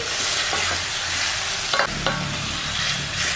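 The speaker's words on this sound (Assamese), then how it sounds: "গেছটো ল' টু মিডিয়াম ফ্লেমত ৰাখি মাংসখিনি ভাজি লওঁ" Marinated mutton with bay leaf, dried chilli and whole spices fries in a 24 cm triply wok over low to medium flame, a loud, steady sizzle broken by wooden-spatula scrapes and stirring knocks.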